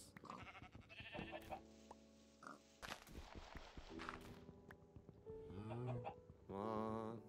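Several sheep bleats from a Minecraft game ring out amid soft blocky footsteps and clicks, with a long wavering bleat near the end, all fairly close and clear.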